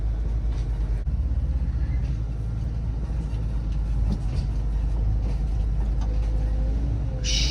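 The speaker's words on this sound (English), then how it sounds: "Shoot, is this truck going to make it up this little gravel hill right here?" A Peterbilt truck labouring up a small gravel hill, a heavy, steady low engine drone heard from inside the cab, loud and continuous with faint rattles over it.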